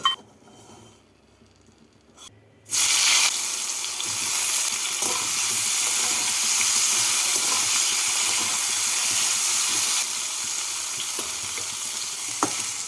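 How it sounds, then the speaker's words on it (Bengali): Eggplant pieces go into hot oil after lentil bori have been fried. A quiet stretch gives way to a sudden loud burst of sizzling that settles into a strong, steady hiss with crackles and faint stirring. "তেলের মধ্যে আমি বেগুনগুলোকে ভেজে তুলে নেব"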